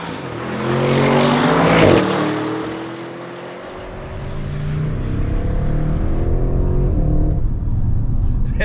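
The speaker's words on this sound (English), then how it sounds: "Let's take this car out for a drive." A 2021 Audi RS 7 V8 engine revs up loud and close, its pitch climbing as it accelerates, easing briefly, then pulling hard again.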